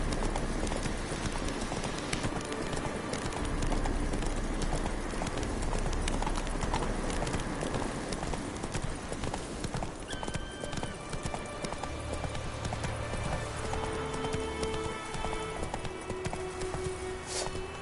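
A horse gallops in the video game Witcher 3, with rapid rhythmic hoofbeats running steadily and loudly across the whole stretch, joined by game background sounds.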